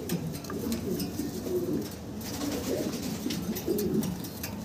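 Large fancy pigeons coo softly and repeatedly close by, their low, rolling calls overlapping against a steady background hum.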